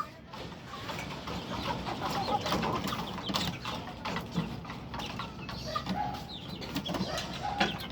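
Chicks and chickens at feeding time, a busy flock clucking and peeping continuously at close range, with occasional brighter calls over a steady scratchy background.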